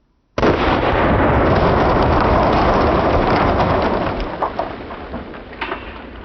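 Home-defense gun fired into a concrete wall, one sudden, very loud blast that roars on and slowly decays over several seconds, close and alone.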